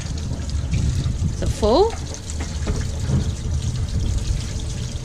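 Water trickles and pours steadily from a campervan tank, a continuous watery rush heard close by, with a person speaking briefly over it partway through.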